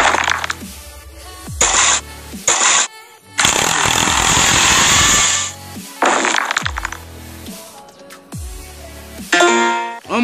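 A drill in the prison-break video game Escape The Prison runs in loud, harsh grinding bursts, starting and stopping several times with brief gaps between them.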